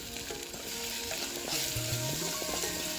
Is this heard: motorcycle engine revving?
no